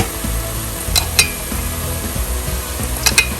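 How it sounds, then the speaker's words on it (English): Carrots and softened leeks sizzle in a frying pan as they are stirred, a steady close crackle broken by a few sharp clinks of a utensil against the pan. "Once the leeks have been fried for a little while, and you can see that they've gone down in size, we're going to add the carrots."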